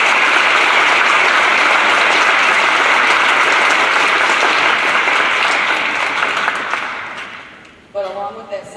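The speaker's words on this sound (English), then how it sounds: "You guys can clap for that, that's pretty good" An audience at a basketball player's signing ceremony gives long, full applause that holds steady and then tapers off, followed by a voice resuming speech at the end.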